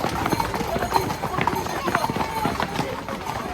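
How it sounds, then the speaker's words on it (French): Horse hooves clatter on the ground at an Arles abrivado with bulls and herdsmen, a busy clip-clop of fast hoofbeats and some kicks over a loud crowd and nearby talking. "ça botte devant, il y a le cheval qui botte"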